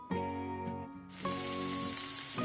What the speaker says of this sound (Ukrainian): Висипаємо сюди наші порізані стрілочки і смажимо.